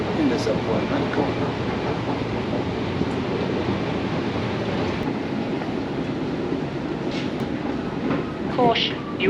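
An airport transit train at London Heathrow runs steadily, like a subway, with continuous rumble and rail clatter throughout and a few brief chimes or squeals near the end.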